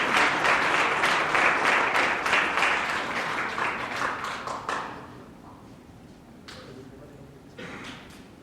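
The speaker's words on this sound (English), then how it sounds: "So once more, a round of applause for all of our 8th grade winners." Audience applause for student winners at a university essay contest awards ceremony, a lively round of clapping that thins to a few scattered claps and then near-silence with isolated taps.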